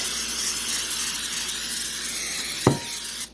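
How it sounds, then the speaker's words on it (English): A continuous hissing spray runs for a few seconds, then a brief knock or clunk near the end before the hiss cuts off. "spray it with cooking spray"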